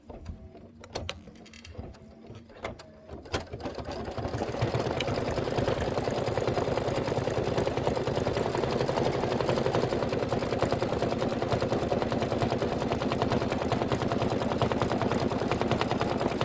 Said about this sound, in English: let it do that gorgeous decorative stitch